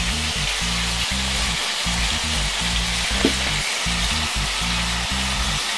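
Onion sizzling in a pan, a loud steady crackle of frying close by, with a low pulsing background rumble running throughout.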